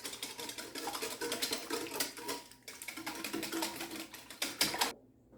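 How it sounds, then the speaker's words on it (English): Eggs beaten with a whisk in a bowl for Southern bread pudding, a fast, steady clatter of rapid metallic strokes that stops abruptly near the end, with no talking. "So now I'm just going to beat these eggs."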